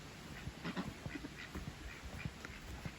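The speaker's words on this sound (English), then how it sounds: "There's the duckies." Ducks in a garden give a scatter of short quacks over about three seconds, close by and moderately loud against faint background noise.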